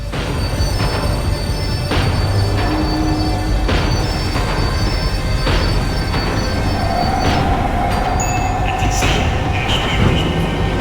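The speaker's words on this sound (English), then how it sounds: "The tram was slowing down" A tram slowing down in the video game Max Payne, a loud continuous metallic rumble with wheel squeal and rhythmic clatter running throughout, close and dominant.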